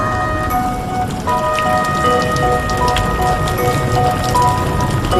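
Steady rain falls and patters on surfaces, a dense, even hiss of drops with scattered sharper splashes, fairly loud and continuous, with no talking.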